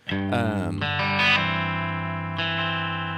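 Sustained electric guitar chords drenched in reverb and delay, notes ringing and smearing together with a brief bright strum partway through.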